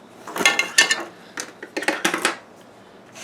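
A tool digs and scrapes around the edge of a plant in a terracotta pot while repotting, making close clattering knocks and scratchy clinks in two bursts, with no voices.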